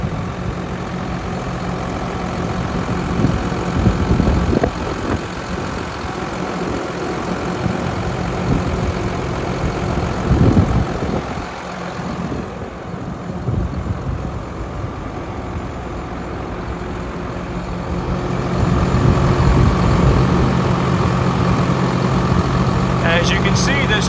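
A 2020 Hino 268A 26-foot box truck with air brakes idles steadily with a low diesel rumble, gently rising and falling, with a brief hiss and clatter near the end.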